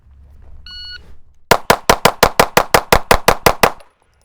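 A SIG P365 compensated pistol fires a rapid string of about twelve sharp, loud shots at an outdoor range, evenly spaced after a short electronic beep, each crack close and punchy.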